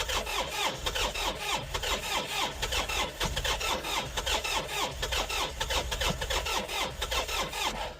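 John Deere 3520 tractor diesel engine cranking in -20 cold, a continuous loud, strained starter grind with rapid rhythmic chugging throughout, close by and without talk.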